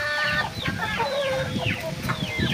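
Backyard chickens, crossbred hens and young roosters of a large Indian Giant cross, cluck and call near the microphone in a run of repeated, overlapping squawks and cackles, with no voices heard.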